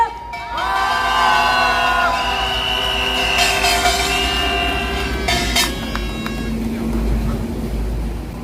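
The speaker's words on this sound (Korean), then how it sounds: "반핵 의사회 우석균 선생님을 큰 박수로 모시겠습니다." A street-lecture crowd gathered over Fukushima nuclear wastewater dumping welcomes a speaker with steady, loud cheering and applause lasting several seconds, mixed with some voices and a few ringing tonal sounds.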